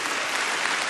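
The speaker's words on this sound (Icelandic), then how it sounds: "að klappa hér í hvert skipti sem að nýir bætast í hópinn" Steady applause from an audience at a public citizens' meeting, dense continuous clapping filling the whole brief moment with no voices above it.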